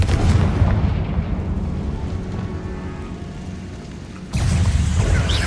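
A Confringo fire spell in the video game Hogwarts Legacy lands as a loud, rumbling blast that slowly decays, followed by a second sudden boom near the end.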